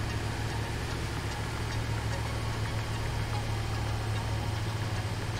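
A small tractor's engine runs steadily in the game Satisfactory, a continuous low idling drone with even vibration held at the same loudness throughout, no talk over it.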